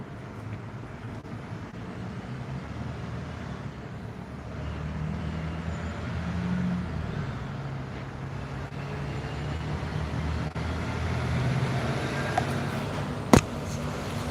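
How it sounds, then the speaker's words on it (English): A loud truck rumbles past at night, a steady low engine drone that builds and lingers across the whole stretch, with a sharp knock near the end and no talking over it. "get on way here with that loud ass truck"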